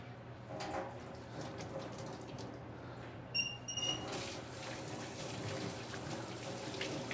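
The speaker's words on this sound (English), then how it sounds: "So now that I've got it, I'm going to wash my hands." Hands are washed under a running tap, a soft, continuous rush of water that stays faint and even, with a brief clatter partway through.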